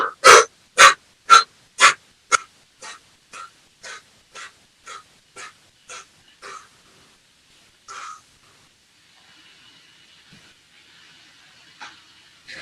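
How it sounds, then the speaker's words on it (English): Deliberate diaphragmatic belly breathing demonstrated in a movement and mobility session: a run of about fifteen sharp, rhythmic breaths, loud at first and fading, followed by a couple of isolated breaths and quiet near silence. "we want to focus on breathing from our diaphragm and our belly"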